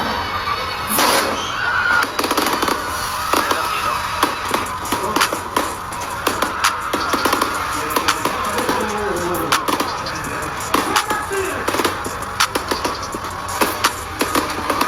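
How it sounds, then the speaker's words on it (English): Stage fireworks at a concert intro at Trinidad's Summer Stage, heard as a string of sharp, irregular bangs and cracks over a noisy, cheering crowd. "That fireworks thing, yeah, it not normal"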